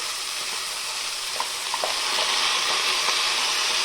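Washed rice, tomato and green chillies fry in a pan for vegetable khichuri, a continuous soft hiss that swells louder midway, with a few faint clinks and scrapes.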